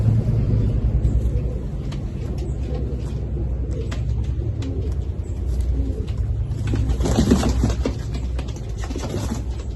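Highflying pigeons coo close by in a low, continuous murmur over a rumbling background, with a brief burst of rustling or flapping near the end.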